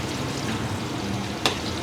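Vegetarian pho ingredients frying golden in oil, giving a steady soft sizzle and crackle throughout, with one brief sharper spatter near the end.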